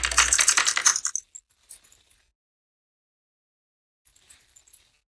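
Rapid typing on a computer keyboard, a loud burst of close key clatter that tapers into scattered taps, then a brief second run of lighter keystrokes after a pause.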